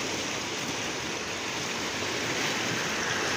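Clear river water in Ireland flows with a steady, broad rushing wash, continuous and even throughout, with no voices.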